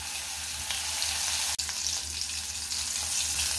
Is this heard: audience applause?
no